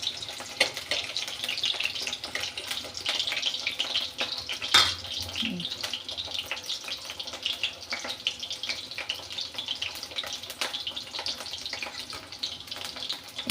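Broiler chicken meat frying in a pan, a constant bright hiss and crackle of oil with scattered small pops, one brief knock partway through, steady and fairly close with no voices.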